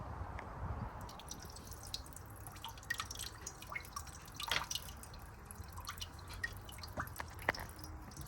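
Boiling water trickles and drips over a glass bottle being heat-treated for cutting, giving soft irregular splashes and drips at low level with no talk.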